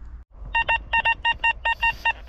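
Metal detector signal tone while digging for relics behind old houses in a field: eight short, loud, evenly spaced electronic beeps in quick succession, each a clear harmonic tone, after a brief pause, with no talk.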